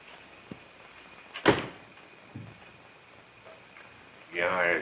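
A door in an old rural house opens and closes: a soft click, one sharp wooden thud, then a smaller knock. A voice speaks briefly at the end.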